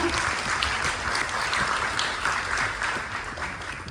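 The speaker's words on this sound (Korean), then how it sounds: "여러분 다시 한번 큰 박수 부탁드리겠습니다" Steady audience applause at a traditional medicine conference following a special lecture, even, close clapping from a seated crowd that tapers off slightly at the end.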